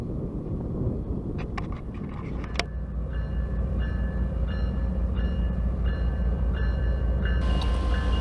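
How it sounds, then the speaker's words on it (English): A CSX freight train pulled by a locomotive rumbles slowly past as it starts off, with a deep engine drone, a sharp clank early on and a repeating metallic tone as cars roll by. "as 650 is coming by real slow, getting started pulling his train"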